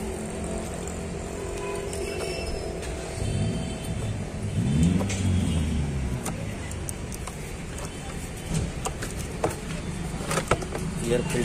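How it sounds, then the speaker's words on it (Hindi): A Tata Vista diesel car with a low fuel rail pressure fault cranks and starts, a low rumbling engine rising in the middle, then settling into a steady idle with faint clicks and knocks. "गाड़ी को करते हैं फायर।"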